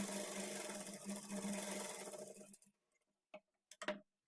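A sewing machine stitches blouse fabric with a steady, continuous whirring run for about two and a half seconds, then stops, leaving a few brief clicks and handling knocks in near silence.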